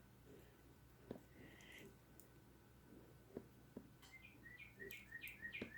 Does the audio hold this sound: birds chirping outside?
yes